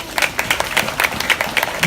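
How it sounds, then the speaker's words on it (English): Audience aboard a Disney cruise in Stockholm, Sweden, clapping hands in a steady rhythmic beat, a crowd applauding together in regular pulses, fairly loud and close. "Now start clapping those hands."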